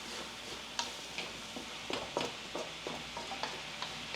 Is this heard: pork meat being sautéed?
yes